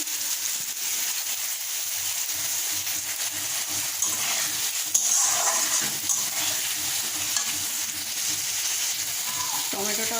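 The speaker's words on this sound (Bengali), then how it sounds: "মাছগুলো ভেজে নিচ্ছি আর মাথার লেজাটা এখন ভাজতে দিলাম" Fish head frying in hot oil alongside tomato, chili and spiced masala, a dense, steady crackling sizzle that holds close and even throughout, with a brief clatter near the end and no speech.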